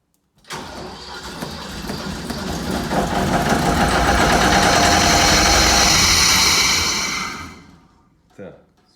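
A Zeppelin Z30B compressor engine is cranked in a start attempt, rising from a sudden whir to a loud sustained roar for several seconds before winding down and cutting out, followed by a brief short sound.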